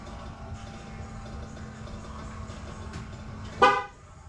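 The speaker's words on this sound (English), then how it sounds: "It's gonna honk when it's done lowering all the way." A vehicle lift, done lowering a RAM Rebel, gives a single short, loud honk over a steady mechanical hum, then the hum drops away quieter afterward.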